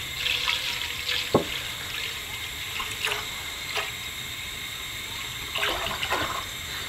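Milk pours from a full 6-pint container into a pan for homemade mozzarella, making a steady, close splashing stream with a few brief clinks and drips, and no voices.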